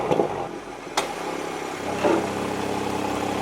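A Toyota Supra A90 engine idles steadily as the car backs up slowly, a low continuous hum with a couple of brief clicks and knocks near the start.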